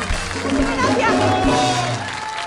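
Audience applause fills the end of a festival stage show, a steady dense wash of clapping and crowd noise with voices talking over it.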